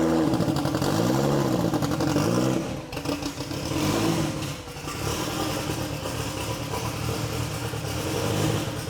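A 2JZ-engined two-door Tacoma pickup with a short exhaust idles roughly and then revs up and down a few times nearby, a throaty, loud exhaust note throughout.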